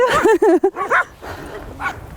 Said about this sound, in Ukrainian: П'ять собак, не лякайтеся, не лякайтеся.